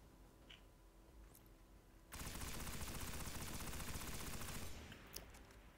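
The Husk of the Pit weapon in Destiny fires a sustained rapid burst for about two and a half seconds, loud and dense, breaking out of a quiet background and stopping abruptly, with a single faint shot after.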